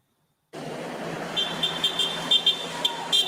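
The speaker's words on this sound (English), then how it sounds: "Supporters of the blogger honked and demonstrated outside the courthouse in Stoughton as Aidan Kearney was led inside" Several short car horn toots sound in quick succession over a steady wash of outdoor traffic and crowd noise from demonstrators outside a courthouse in Stoughton.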